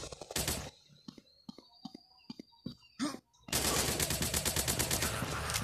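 Gunfire in the shooting game Commando War Army comes as scattered sharp single shots, then a sustained loud automatic burst rattling to the end, close and dominant.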